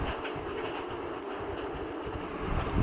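An Indian Railways train runs along the track with a steady rumbling clatter and a rhythmic wheel beat, heard from inside without any talking.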